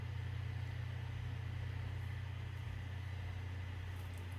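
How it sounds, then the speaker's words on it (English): A steady low mechanical hum with constant airy whir from a MacBook fan running, faint and unbroken with no talking. "if you can hear the MacBook noise in the background"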